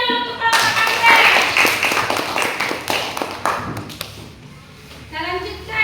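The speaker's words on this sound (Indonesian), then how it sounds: "Tepuk tangan dulu untuk kelompok anggrek" A class claps for the Anggrek group during a school activity: a dense patter of handclaps that swells early, runs for a few seconds and then fades out.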